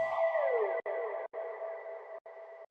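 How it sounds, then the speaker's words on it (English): Siren sample from a bass-music production, drenched in heavy reverb and dub echo: a sweeping tone that glides downward, then repeating echoed pulses with brief dropouts between them, loud and alone. "Then I have like this siren sample that I found on my library, and it has a ton of reverb and dub echo."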